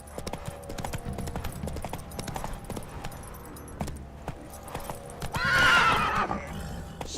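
Roach, the horse in The Witcher video game, clip-clops along at a steady running rhythm with a loud whinny near the end, set against game background sound and no speech.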